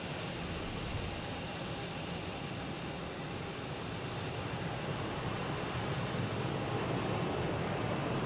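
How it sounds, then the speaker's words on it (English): An American Airlines airliner takes off at Logan Airport, its engine producing a loud, steady broadband roar that holds through the whole stretch with no voices. "I got all this engine noise going on. It's just a little American Airlines taking off to Columbus."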